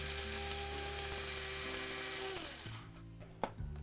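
An electric spice grinder whirs steadily while grinding dried chillies into fine Jaffna chili powder, its motor pitch dropping as it winds down near the end, followed by a short knock.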